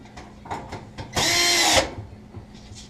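A power drill drives screws back into a Whirlpool stove during an infinite switch replacement: one steady whirring burst of about half a second, close and loud, with faint clicks and handling noise before and after.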